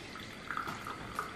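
Freshly plunged coffee from a French press pouring into a small cup, a short, quiet liquid trickle with a few gurgling splashes, heard close and alone.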